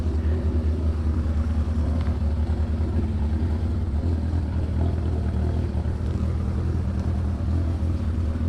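A car engine idles and rumbles steadily at close range as the vehicle reverses out of a tight spot, a low, continuous drone with no talking.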